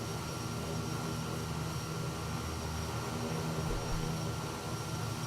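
Kodiak bush plane engine in Microsoft Flight Simulator, a steady loud propeller and engine drone with an even cabin hum throughout, no talking.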